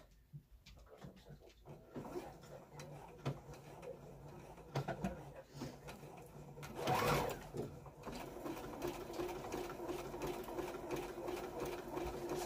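A domestic sewing machine runs in short bursts as it stitches through fabric lining, the needle chattering in a fast steady rhythm from close by, with a louder thump partway through.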